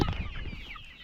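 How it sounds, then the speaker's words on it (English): Chickens clucking on a farm with livestock around, a few close, busy clucks and squawks overlapping in a short burst, moderately loud against faint outdoor background. "You can see we have livestock around, and we have our chicken around."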